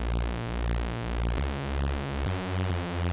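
Synthesized Reese bass made from two detuned oscillators pitched down two octaves, a deep, sustained buzzing drone with a slow phasing wobble, changing pitch twice, played alone with no voices.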